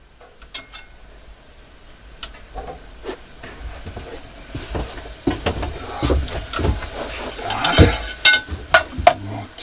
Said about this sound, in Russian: Теперь добавляем мясо, ну, в общем, тушенку. И также немножко буду жарить.